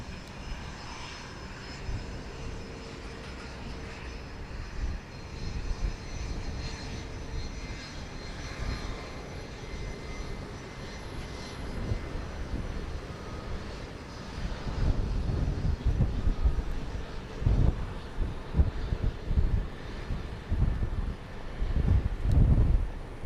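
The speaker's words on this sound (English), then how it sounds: "There's a 737-700." Boeing 737-700 jet airliner at Dallas Love Field on a breezy day, its engines roaring steadily and building louder toward the end, with wind buffeting the microphone throughout.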